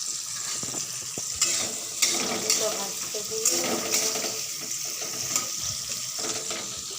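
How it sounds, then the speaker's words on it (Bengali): Onions frying in a pan for a home-cooked mutton and pulao meal, a steady close sizzle with periodic scraping stir strokes, alongside some running water or sink noise in the background. "প্রথমে পেঁয়াজটা ভেজে নিই, তারপর আলুটা ভাজবে।"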